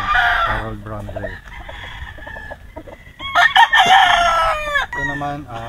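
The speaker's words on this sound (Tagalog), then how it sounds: "Ito, personal na natin to na broodcock. 3 years old." A three-year-old Harold Brown Gray gamecock broodcock on a game farm crows loudly and close several times, with clucking and other fowl sounds between the calls.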